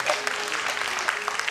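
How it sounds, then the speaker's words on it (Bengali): Audience applause for the instrumentalists at an evening music performance in Chhayanaut Auditorium, Dhaka, a steady patter of many hands clapping throughout under a faint voice. "ভাইদের জন্য একটা করতালি আশা করছি"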